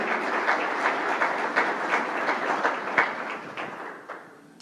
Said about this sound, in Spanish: ¿por qué no le damos un fuerte aplauso?